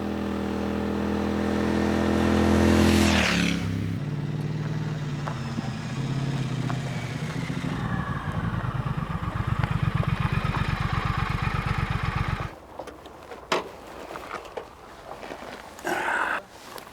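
A 2017 Triumph Thruxton with a 1200cc British parallel twin runs loud and close, revving hard then settling into a steady throbbing pulse before easing off near the end, with no talk over it.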